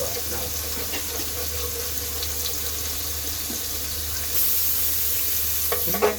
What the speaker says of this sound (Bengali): আমি ততক্ষণ পনিরটা ভেজে নিই